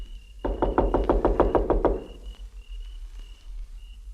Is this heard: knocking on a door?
yes